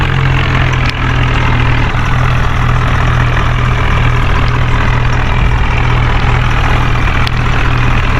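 A tractor's heavy diesel engine runs loud and close with a steady low throbbing drone while reversing to load onto a truck, with no talk.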